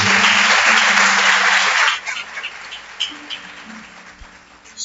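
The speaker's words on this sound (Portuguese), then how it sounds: "Dá a melhor salva de palmas à palavra de Deus." A church congregation gives loud, dense applause during a celebration service, a sustained roar of many clapping hands that cuts off sharply after about two seconds and leaves scattered room noise and faint voices.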